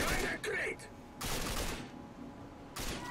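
Gunfire in the first-person shooter Rage: short loud bursts of rapid shots, three clustered volleys separated by brief pauses, close and sharp, with game noise beneath.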